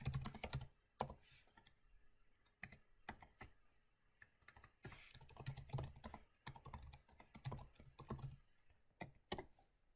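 Git commands being typed on a computer keyboard in a Windows terminal, heard as bursts of close, crisp key clicks with short pauses and a few heavier keystrokes, no voices.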